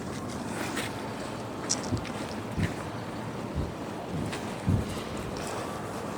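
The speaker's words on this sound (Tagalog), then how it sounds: "mahangin po dito sa rooftop" Steady wind buffets the microphone on a rooftop, a continuous rumbling roar with a few louder gusts and thumps, no voices.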